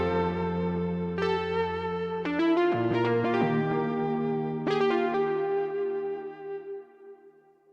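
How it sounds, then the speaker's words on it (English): Arturia CS-80 V4 virtual polysynth plays a slow melodic phrase of rich sustained chords with layered harmonics and effects, notes changing every second or so before fading out, with no voices. "it's basically a virtual CS80."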